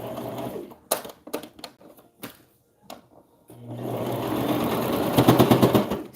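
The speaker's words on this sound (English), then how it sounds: "Make sure to back stitch." A sewing machine back stitching satin fabric while making a reversible scrap-fabric bonnet, heard as a few short clattering bursts and then a steady, loud run of stitching to the end.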